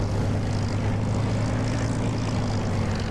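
A 1949 Spitfire propeller engine in the DCS flight simulator, a loud, steady droning roar with a strong low hum and no change in level or pitch.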